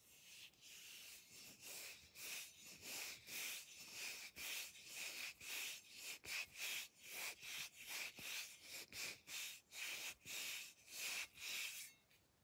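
Rusty metal rubs against skin close up, a rhythmic series of dry, gritty friction strokes with a slight whistling edge, repeating steadily and quietly for the whole stretch, no talking.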